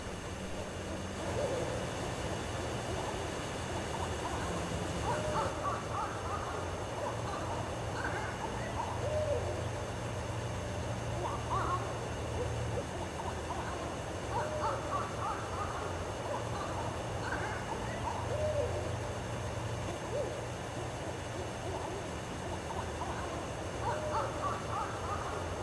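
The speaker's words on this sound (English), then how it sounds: "Listen to the mating call of the owls." Owls, a breeding pair, hooting a mating call back and forth amid a busy wash of other birdsong and a low steady rumble, continuous throughout, with a voice murmuring faintly in the background.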